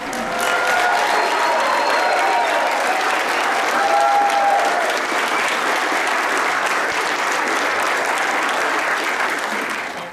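An audience applauds the master's candidates at a College of Education hooding ceremony, with sustained, dense clapping from a large crowd in a hall that stays loud and even throughout before tapering slightly at the end.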